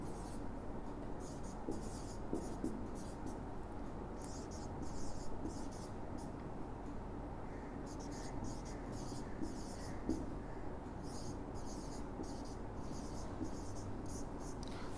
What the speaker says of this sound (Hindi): नंबर्स लिख रहा हूँ मैं